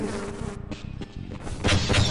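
Bees buzz in the Half-Life video game, a close, droning hum that swells and breaks into uneven bursts over a couple of seconds.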